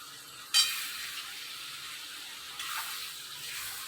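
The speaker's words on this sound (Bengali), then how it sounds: "এবার এইটাকে ভালো করে ভাজা ভাজা করবো," Potatoes and spices fry in an iron wok with a continuous soft sizzle, a sharp scrape or stir near the start and another surge of hissing later, close and quiet with no talk.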